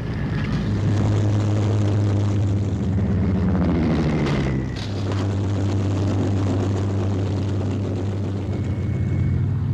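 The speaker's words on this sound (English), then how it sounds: "One after another, planes enter the circuit." Propeller-driven fighter planes, Hawker Sea Furies of the Second World War era, drone loudly while coming in to land on an aircraft carrier, with steady engine tones that dip and shift pitch as each plane passes close.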